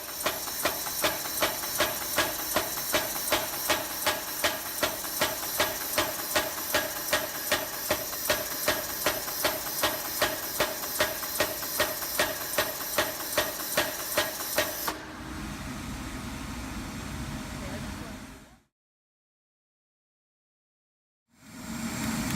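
Iron flower petals hammered flat at the edges on an anvil: steady, rapid metallic blows ring out close and loud for about fifteen seconds, then a hissing rush follows and cuts to silence.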